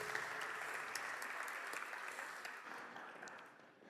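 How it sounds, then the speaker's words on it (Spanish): An audience at a small smart cities forum claps in steady applause that fades gradually toward the end. "Un aplauso."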